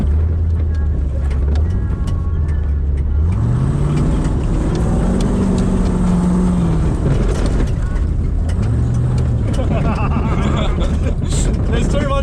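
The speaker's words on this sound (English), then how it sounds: "There's too much clunking going on." A car engine runs loud and rough through a burnout at the Red CentreNATS event, with a constant roar and rising and falling revs, crowd noise throughout.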